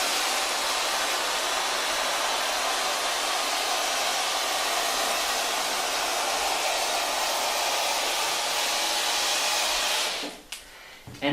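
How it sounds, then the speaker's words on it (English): Bed bug steamer hissing as it treats the perimeter of a chair, a steady broadband hiss for about ten seconds that cuts off abruptly near the end. "As I kick the steam around."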